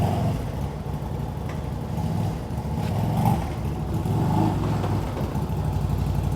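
A CFMOTO ZFORCE 950 H.O. EX side-by-side's engine runs steadily nearby with a low, throaty drone, swelling in a few mild revs as the vehicle rocks back and forth.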